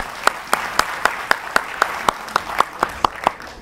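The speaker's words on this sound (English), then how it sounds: "Give them a round of applause." Applause at a talk, dominated by one close, sharp clapper striking a steady beat about four times a second over a softer background of other hands.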